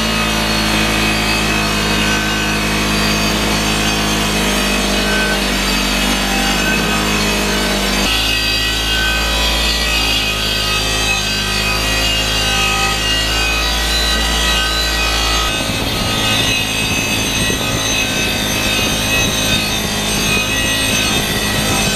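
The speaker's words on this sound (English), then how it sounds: "We'll go over to the wire wheel and clean some of the goop up." A bench wire wheel scours corrosion and grime from a 30-year-old Yamaha FZR motorcycle wheel, producing a loud, continuous abrasive whir and scraping that shifts in pitch as pressure changes, with no talking.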